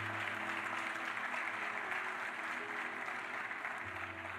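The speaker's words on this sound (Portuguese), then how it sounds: "Você pode aplaudir a Deus pela palavra dele?" Church congregation clapping together during a sermon, a broad, continuous roll of many hands at a steady loudness, with a faint low tonal hum running underneath.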